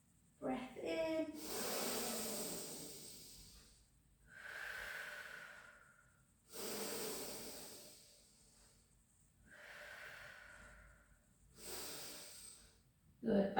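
Slow nasal inhalations during a gentle pilates class, four or five long airy breaths in through the nose with quiet pauses between, close and soft, with faint breathy voice at the start.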